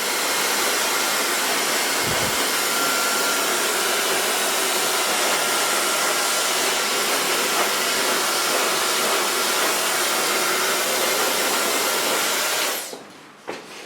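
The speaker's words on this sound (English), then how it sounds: "So far blow drying." A hair dryer blows hair during a short pixie haircut in a salon, a loud, continuous close roar that runs for about twelve seconds before cutting off abruptly.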